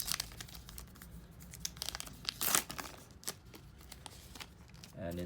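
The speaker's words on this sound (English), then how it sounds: "So let's open the 50th anniversary card first." A 2018 Topps Heritage baseball card pack is ripped open up close, giving rapid crinkling and tearing of foil wrapper, with a louder rip midway and a voice speaking at times.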